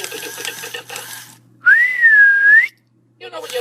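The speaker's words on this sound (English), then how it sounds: "I'm gonna try the whistle again." A plastic Mr. Potato Head toy from Thinkway's Toy Story Collection gives a single loud, wavering whistle of about one second, set between short bursts of talking voices before and after.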